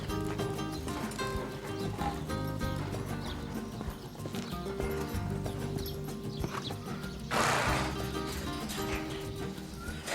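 An agile, docile Arabian-type horse clip-clops with steady hoof beats and gives a loud whinny partway through, all close and clear without speech.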